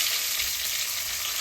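Green chillies sizzle in hot oil already crackling with mustard seeds and cumin, a steady, close, dense frying hiss with no talking.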